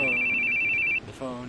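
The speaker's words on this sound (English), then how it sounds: "Your phone. Your phone's ringing." A telephone rings in the video game The Boogieman, a steady electronic ring tone lasting about a second, near and loud, followed by a brief pause and the start of another ring.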